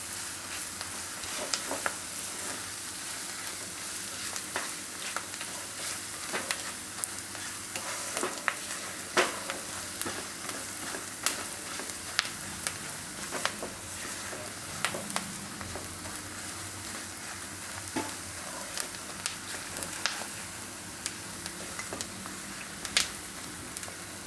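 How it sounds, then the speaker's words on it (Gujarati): Gram flour roasts in oil in a pan, stirred with a utensil, giving a continuous soft sizzle and crackle broken by frequent light scraping clicks, close and steady. "અને આપણે એમાં ચણાનો લોટ નાખી દેવું એટલે તેલમાં શેકાઈ જાય એમ."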